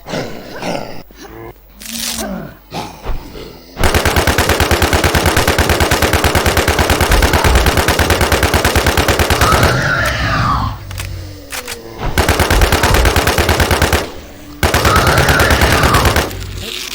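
Gunfire in the online shooter War Z Secret Z, a dense sustained burst of rapid automatic shots running for several seconds, broken by short gaps and resuming loud and close, with brief quieter stretches of game ambience between.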